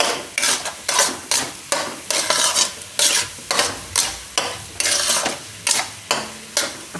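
Gujarati winter sukhdi mixture with ghee being stirred and roasted in a pan: steady, rhythmic scraping strokes about three per second, with a soft sizzle beneath, close and clear, and no voices.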